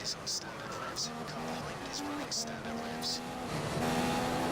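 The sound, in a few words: racing car engine in video game F1 2015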